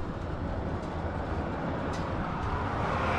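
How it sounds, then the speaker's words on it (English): Morning road traffic passes near a gas station, a continuous low rumble and wash of vehicles heard at a moderate distance without pause, with no talking. "nothing else is going on besides traffic on the road"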